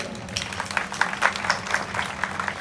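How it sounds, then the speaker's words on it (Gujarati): An audience at a Rajput community gathering breaks into applause for daughters wearing odhnis, a steady burst of clapping from many hands that lasts throughout. "આજે આ જેટલા દીકરીઓએ ઓઢણા ઓઢા છે ને એના માટે એકવાર તાળીઓ થઈ"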